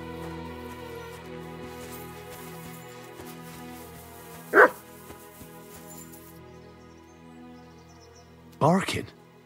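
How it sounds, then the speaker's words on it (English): A dog barks in the video game Kingdom Come: Deliverance 2: two short bursts a few seconds apart, moderately near and distant-sounding, over a quiet ambient music bed. "Barking."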